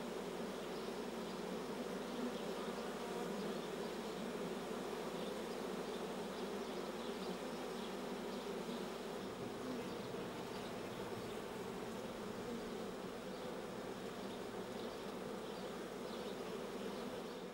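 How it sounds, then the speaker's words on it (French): A honeybee swarm clustered on a tree, giving a dense, steady buzzing drone from many bees that holds evenly throughout, with no voices over it. "Entre-temps, l'essaim s'est fixé sur un arbre"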